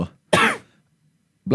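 A person sneezing during a podcast, two short bursts: a sharp, loud sneeze near the start and another just beginning at the end, with a brief near-silent gap between them.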